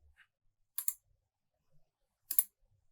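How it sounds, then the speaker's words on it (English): Two sharp mouse clicks on a computer, well apart, close and fairly loud against an otherwise quiet background, with a few faint taps between. "If I click on it though, it will open in a new tab."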